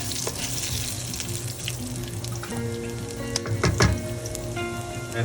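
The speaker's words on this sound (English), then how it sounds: "I'm going to add a little bit of the previously chopped ginger to it." Chopped ginger sizzles in a hot pan, a steady broad frying hiss carrying clinks and scrapes from stirring, with a brief louder burst of activity midway; running tap water seems to blend in, and no one talks.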